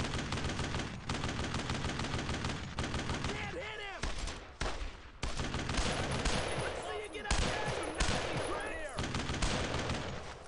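Dense rifle and machine-gun fire crackles across a D-Day battle in Brothers in Arms: Road to Hill 30, loud rapid bursts running nearly nonstop with short gaps and a few heavier blasts, shouted voices mixed in.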